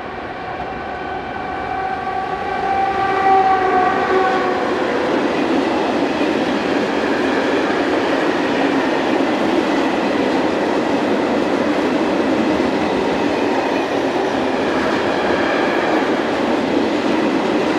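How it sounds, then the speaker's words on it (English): A freight train in CD Cargo blue livery hauls loaded Fals coal hopper wagons along the Elbe River valley near Usti nad Labem, a horn-like tone at the start giving way to a loud, continuous rolling rumble of wheels. "Here it heads south with loaded Fals coal hoppers from the loading point at Kotiovice."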